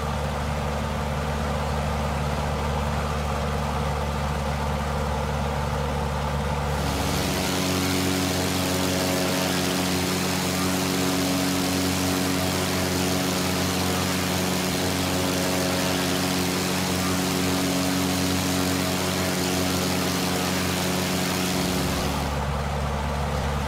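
A de Havilland DH.82 Tiger Moth biplane engine drones steadily in flight within Microsoft Flight Simulator, loud and continuous, deepening into a fuller throb through the middle stretch before easing back.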